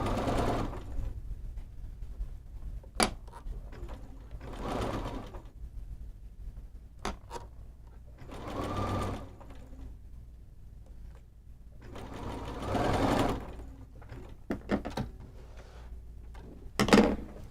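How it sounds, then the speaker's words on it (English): A sewing machine stitches a quarter-inch seam while piecing a quilt block, running in several bursts of steady whirring separated by short pauses, with small clicks and handling noises in between. "I'm going to sew that with a nice accurate 1/4 inch seam."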